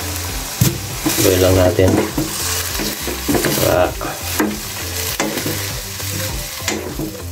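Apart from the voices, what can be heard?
shrimp paste added to frying pan for Bicol express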